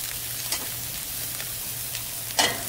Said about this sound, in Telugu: ఇంకా ఇందులోకి నేను ఇప్పుడు పప్పు వేస్తాను